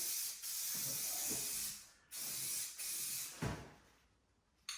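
Aerosol spray paint, Rust-Oleum purple gloss, hisses onto a car hood for an Eagle Talon or Mitsubishi Eclipse in long steady bursts, with brief pauses and a sharp final puff.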